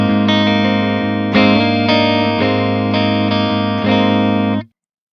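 An electric guitar chord played through an ENGL Ironball SE amp, a thick distorted tone with a few strummed accents sustaining for about four seconds before cutting off into silence.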